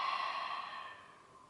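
Slow, steady exhale during a beginner Pilates leg exercise, a soft breathy hiss fading gradually over a second and a half, close and quiet with no talking.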